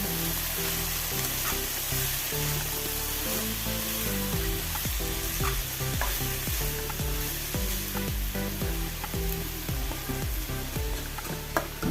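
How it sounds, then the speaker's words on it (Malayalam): Chopped palak (spinach) leaves for a Kerala-style thoran sizzle and crackle steadily in a hot pan, with repeated scraping stirs of a spoon sounding in a loose rhythm over the continuous frying hiss. "നമ്മൾ അരിഞ്ഞു വെച്ച ഇല ചേർത്ത് കൊടുക്കണം ഒന്ന് ഇളക്കി കൊടുക്കാം"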